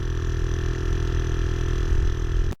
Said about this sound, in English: we're pumping up the front tyre